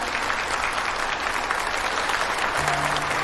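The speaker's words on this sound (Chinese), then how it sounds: "大家掌声欢迎。" A crowd at a corporate phone launch event applauds a company vice president's entrance, a steady, fairly loud wash of many hands clapping, with a faint low tone entering near the end.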